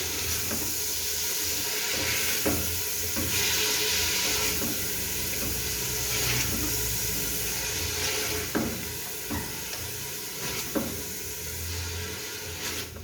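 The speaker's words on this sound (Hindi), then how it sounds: "और गोश्त का कलर चेंज होने तक उसको भून लेंगे।" Beef pieces frying in a pot for degi korma until the meat changes colour. A loud, dense, continuous sizzle and hiss runs throughout, broken by faint occasional knocks of stirring.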